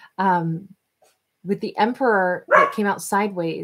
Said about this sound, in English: I'm sorry about the barking of my doggy there.